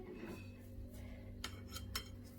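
A metal utensil cuts through hot boiled potatoes in a pot, giving soft quiet scraping and two sharp clinks against the metal over a low steady hum.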